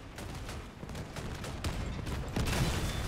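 Heavy tank cannons firing during a video game battle with an 88mm gun, a series of loud booming shots and blasts packed close together over a constant rumbling backdrop, growing louder toward the end.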